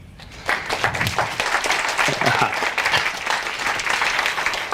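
Audience applause welcoming a microwave scientist to the stage at a SETI talk, a dense, steady wash of many hands clapping that swells in after a brief quieter start and carries on loudly to the end.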